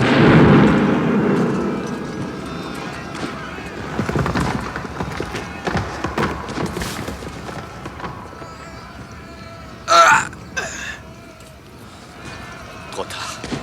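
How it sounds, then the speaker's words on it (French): Grenade blast in a French radio drama of the Battle of Borodino, a heavy boom at the start that fades into rumbling battle noise and a later sharp burst, with voices shouting and talking over it. "Attention à la grenade, prince! Couchez-vous vite!"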